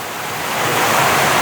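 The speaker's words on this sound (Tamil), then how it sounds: "நல்ல மழையும் அடித்து ஊற்றி கொண்டிருக்குது." Dense, steady hiss of heavy rain pouring down, a broad roar that swells slightly and holds constant with no voices.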